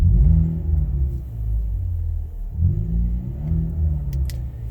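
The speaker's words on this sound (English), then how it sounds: "this is my exhaust cutout real quick" A deep, rumbling exhaust with a cutout open on a 2015 Cadillac CTS 2.0T idles and is blipped twice in slow succession, the low growl swelling then settling, heard up close.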